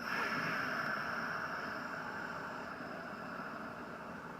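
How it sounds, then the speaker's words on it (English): A long, steady breathy hiss of an Ujjayi exhale, air pushed out through the nose with the mouth closed and narrowed at the back of the throat during a yoga session, soft and continuous and fading slightly toward the end. "Ujjayi breath is making a hissing sound with the back of your throat,"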